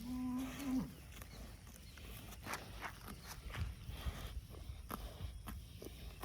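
Cattle on a farm, with a cow's low moo at the start followed by hoof steps, shuffling and scattered knocks in a quiet outdoor setting.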